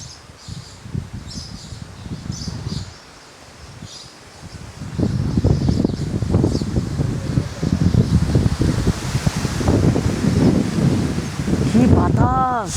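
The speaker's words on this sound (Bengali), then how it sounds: "কি বাতাস!" Strong wind rushes through trees in a remote jungle village in Papua New Guinea, rustling leaves and buffeting the microphone in loud gusts that build after a quieter start, with faint birds in the background.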